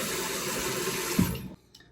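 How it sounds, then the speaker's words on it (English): Tap water runs steadily from a faucet into a sink while a face is being rinsed, a close, continuous splashing flow that cuts off abruptly near the end. "now that your face is completely rinsed"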